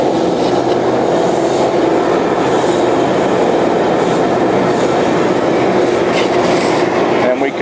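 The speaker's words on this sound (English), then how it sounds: "Start the second engine." A twin-engine hot and cold water sewer jetter trailer runs steadily, its engine producing a loud, continuous mechanical drone throughout.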